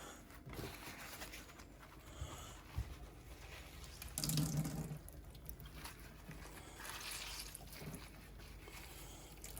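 Water runs and splashes faintly into a sink as it drains off fresh basil leaves, with a brief louder gush midway as it drains.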